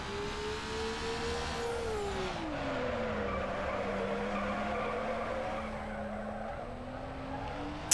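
Car drifting in NFS Underground, a Mazda with tires skidding and squealing continuously through a long slide, engine droning steadily underneath, loud and close with no talk.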